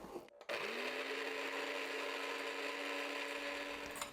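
A small electric blender whirs steadily for several seconds, mixing a spice seasoning of garlic powder, sugar and salt for tornado potatoes, starting after a short clunk.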